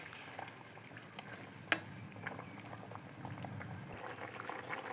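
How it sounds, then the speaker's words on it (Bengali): Rupchanda fish curry gravy simmers in a pan, a steady low bubbling and soft crackle with scattered pops and one sharp clink partway through, close and fairly quiet with no talk. "এবার ঝোলটা ফুটে উঠেছে"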